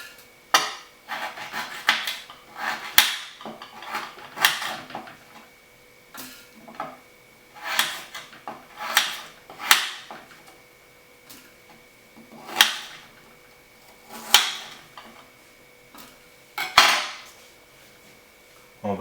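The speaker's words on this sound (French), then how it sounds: "Après, on découpe les gingembre. Moi, j'aime bien les découper le plus fin possible." Fresh ginger is sliced as thinly as possible with a knife on a cutting board, giving a series of crisp, close chopping taps in irregular bursts with short pauses between them.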